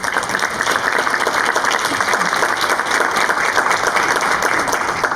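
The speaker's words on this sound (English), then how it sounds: "Let's give them a round of applause." An audience at a public health panel discussion applauds the panelists, dense sustained clapping filling the room evenly from start to finish with no gaps.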